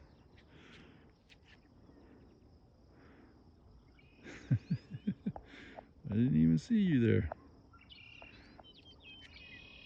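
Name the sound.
red-winged blackbird calling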